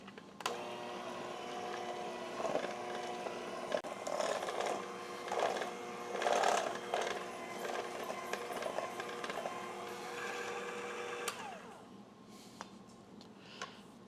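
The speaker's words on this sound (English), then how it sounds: "Mix that all up with your hand mixer." An electric hand mixer whirs steadily through keto corn muffin batter, a close sustained motor whine with slight wobbles as it works the bowl, cutting off near the end to leave quieter handling sounds.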